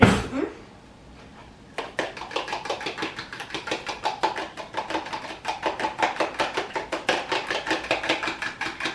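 An egg is whisked briskly with a fork against a bowl, producing a fast, steady series of close clicking taps that continues for several seconds after a short pause.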